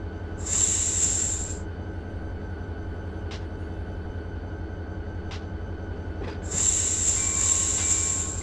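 A train in a railroad simulation game rolls past with a steady low rumble of wheels on rail. Two bright, high-pitched horn or whistle blasts, one early and one near the end, ring out over it, with brief clicks in between and no talk.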